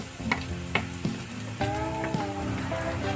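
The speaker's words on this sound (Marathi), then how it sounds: "आता आपला कांदा फ्राय होत आलेला आहे त्याच्यामध्ये लसूण टाकायचा" Onion and garlic sizzling in a frying pan, a close, steady crackling fry with small pops and a brief stirring scrape, no one talking.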